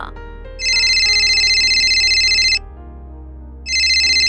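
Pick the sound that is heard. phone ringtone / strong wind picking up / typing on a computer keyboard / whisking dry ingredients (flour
phone ringtone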